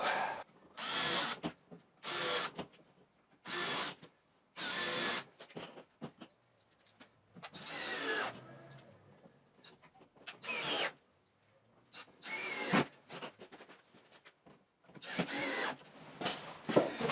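A power drill pre-drills holes in wood for a portable fence: about ten short, close bursts of whirring drilling separated by quiet pauses, with no speech.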